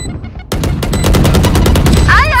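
Rapid, loud automatic gunfire in Valorant, a fast rhythmic string of close shots starting abruptly after a brief lull and running steadily to the end.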